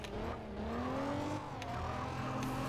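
Buffalo car in the MTA Paradise RPG video game idling after its engine starts, a steady low hum with rising harmonic tones as it revs slightly, with a couple of brief clicks, alone.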